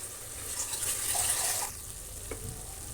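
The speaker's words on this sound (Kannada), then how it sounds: "ಇದರಲ್ಲೇ 5 ಕಪ್ಪು ನೀರು ಹಾಕ್ತಾಯಿದ್ದೀನಿ ನಾನು." Water poured into a cooking pot for millet pongal, a hissing splash that swells then stops about halfway through, followed by a quiet bubbling and a faint clink.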